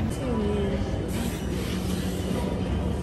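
A train rumbles along with a steady low roar and a faint squeal of wheels, heard from inside the moving carriage.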